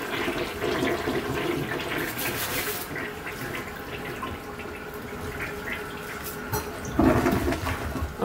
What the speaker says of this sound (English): And then we're just gonna flush.